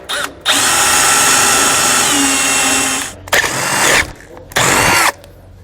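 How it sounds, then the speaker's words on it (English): A power drill whines steadily as a 17/32 drill bit bores a hole on a 2018 Thor Four Winds motorhome, pausing and then running again in two shorter bursts near the end. "We're then going to drill out the hole that we marked using a 17/32 drill bit."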